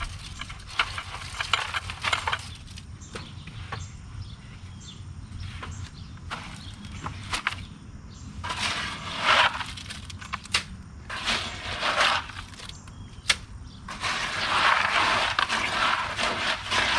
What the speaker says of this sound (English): Mix real well at the bottom of the bucket.